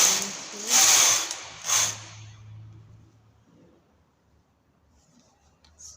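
A domestic knitting machine carriage with a punch card pulls across rows of a skirt in two or three quick rasping sweeps, close and fairly loud, then falls to quiet with faint handling clicks.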